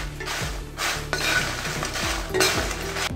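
Dried red chilies dry-roasting in a pan while making rasam powder give a continuous, close dry rattle and clatter with scraping stirs against the metal pan, steady and busy with no talking.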